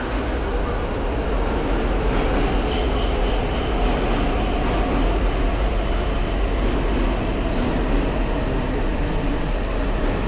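A Japanese bullet train runs with a steady, loud rushing roar and a continuous high whine that starts a few seconds in and holds throughout, close by with no speech.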